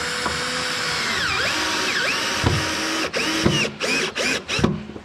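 Power drill driving screws into a hard plastic drum, whining motor runs with rising pitch followed by several short stop-start bursts as screws bite, close and clear.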